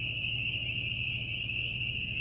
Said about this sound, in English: Listen to those frogs, guys. Sounds like a car alarm.